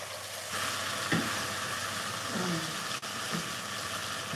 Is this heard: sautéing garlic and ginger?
yes